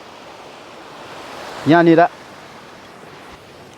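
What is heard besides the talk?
river flowing at the riverbank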